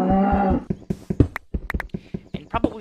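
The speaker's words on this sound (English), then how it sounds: "that mooing is going to drive me insane" Cows mooing in the Minecraft video game, several long low moos close by in quick succession, one after another, with short gaps and no talking.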